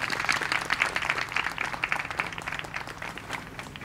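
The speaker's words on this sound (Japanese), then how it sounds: "原選手に大きな拍手をお願いいたします。" Gallery spectators at a women's professional golf tournament give steady applause, a soft, dense patter of many hands clapping at moderate distance that gradually thins out.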